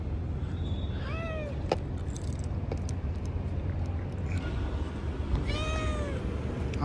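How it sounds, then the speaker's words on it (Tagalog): A cat meows twice, a short mew followed a few seconds later by a longer one, heard close over a steady low hum of outdoor background noise. "Bakit lapitin ako ng pusa, ha?"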